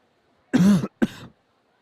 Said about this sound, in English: That was a cough that was supposed to be muted.